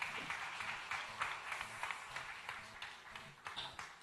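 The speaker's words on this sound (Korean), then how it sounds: "박수 한 번만 더 부탁드립니다." At the 2017 UP Creative Audition, an audience gives faint, scattered applause throughout, with distinct individual claps popping out of the low, distant clatter.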